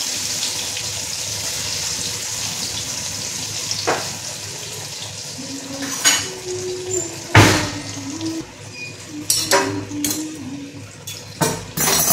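A bhakri griddle pan is set down in a home kitchen with several metallic clanks and knocks of dishes, rising over a running-water hiss and background noise.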